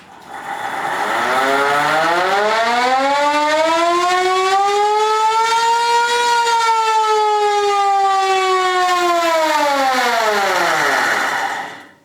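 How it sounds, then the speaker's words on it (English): A hand-cranked siren from a 1926 LaFrance fire engine winds up, wails steadily at a high pitch for several seconds, then winds down to silence, loud and close. "this is the siren, the hand crank siren off of the 1926 LaFrance"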